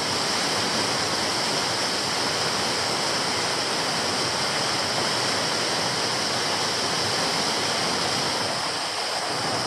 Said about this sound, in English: I've actually ended up on top of the waterfall